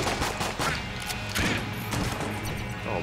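Shotgun blasts in a video game, several sharp crashing shots in quick irregular succession, loud and close.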